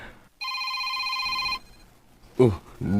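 A telephone gives a single sustained electronic ring, clear and fairly loud, that stops abruptly, followed by voices speaking nearby.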